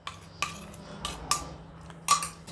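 A spoon clinks against a pot while stirring a cornflour and cocoa mixture into hot milk, giving four or five sharp, close metallic taps spread irregularly over a quiet background.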